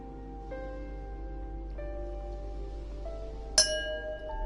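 Glass clinking during a sip of bubbly, a single bright ringing clink standing out near the end over a steady low background hum, with faint earlier tonal chimes.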